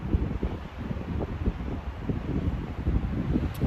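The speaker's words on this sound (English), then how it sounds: "sorry if you hear the wind and stuff. It's picking up a little bit." Wind gusting outdoors in a forest, a low, rumbling buffet against the microphone with faint rustling, steady and fairly close for a few seconds with no talking.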